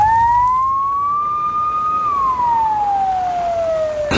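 A single emergency siren wails close and loud during flooding and heavy rain in Antalya, its tone slowly rising, then sweeping back down in one long cycle.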